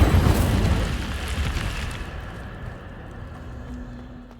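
Incendio fire spell cast in the game Hogwarts Legacy, a loud whooshing burst of flame that rumbles and slowly fades over a few seconds.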